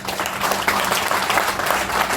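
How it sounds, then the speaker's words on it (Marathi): A seminar audience applauds Dnyaneshwar Patil, a dense, continuous burst of clapping from many hands filling the room evenly throughout. "सर्वांनी एकदा सन्माननीय आदरणीय ज्ञानेश्वर पाटील सरांसाठी एक टाळ्या वाजवायच्या आहे"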